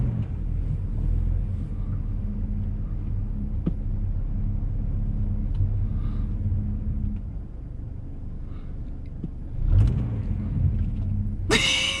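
A car stuck on a solid sheet of ice in a Kentucky winter storm, its engine rumbling and revving steadily at close range, with a brief louder surge near the end and no talking.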